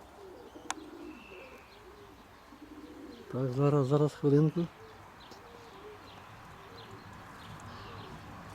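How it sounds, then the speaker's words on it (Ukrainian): Pigeons coo softly and repeatedly in the background, low and steady, while someone speaks briefly partway through. "Цей голуб опускається."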